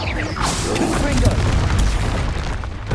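A Confringo explosive spell bursts in Hogwarts Legacy, a deep booming blast with rumbling low end that swells and sustains through the moment amid game combat noise.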